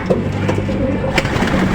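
A sick pet pigeon cooing close by, a short low murmuring coo with soft throaty pulses.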